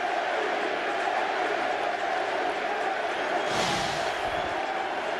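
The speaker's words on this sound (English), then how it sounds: "And listen to this crowd." Football stadium crowd at a 2004 Miami Dolphins at Seattle Seahawks game, a continuous loud roar of cheering that swells briefly toward the end, heard at a distance as a broad wash.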